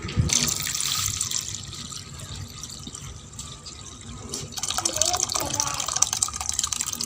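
Pomegranate water poured through a cloth strainer into a bowl: a continuous splashing pour, loud at first and easing slightly before swelling again, with liquid trickling, while a person talks over it.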